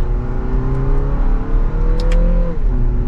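The four-cylinder engine of a Lexus NX350 revs up as a paddle-shift downshift is made while driving, giving a steady loud engine drone whose pitch rises and then drops, heard from inside the car.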